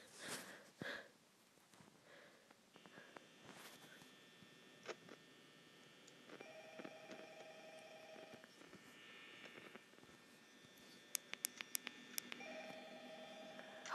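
Telephone tones and a ringing line from a phone call in the horror game Five Nights at Freddy's, faint and steady, with a few sharp clicks near the end and no talk.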